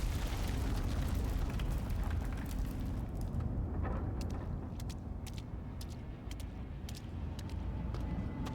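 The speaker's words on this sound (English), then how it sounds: "Is it supposed to be the one of the explosions we set off as Mike in the sanatorium?" A deep explosion in the horror game Until Dawn, set in a sanatorium, rolls out as a broad, sustained rumble that fades into a long low roar scattered with sharp crackles and falling debris.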